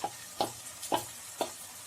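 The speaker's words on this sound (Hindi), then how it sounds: "चिकन डालने के बाद हाई फ्लेम पे चिकन को हमें अच्छे से भूनना होगा" Marinated chicken pieces with onions fry in a pan over a high flame, with four evenly spaced stirring scrapes over a soft, steady sizzle.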